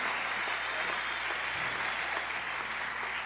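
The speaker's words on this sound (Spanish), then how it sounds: "Si ese aplauso es para nosotros" Audience applause at a church worship gathering, a steady, even wash of many hands clapping, fairly distant and faint, with no talking.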